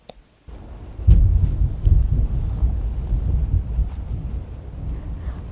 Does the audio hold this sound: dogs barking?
no